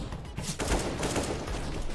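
Gunfire from a headshot in Counter-Strike: Global Offensive on the Mirage map, a dense burst of rapid shots close and loud, running the length of the moment with no talking.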